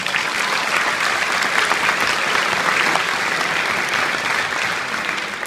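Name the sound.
crowd cheering and applause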